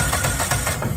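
A Miller Bobcat 225 welder generator's replacement UTV engine running on throttle gives a steady, close, buzzy drone with a slight pulsing rhythm and no talk over it.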